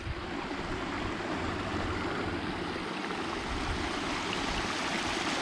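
A large garden stream at a pond-building site carries about 35,000 litres of flowing water. It makes a steady, dense, close rushing sound that stays loud and even throughout, with no talking.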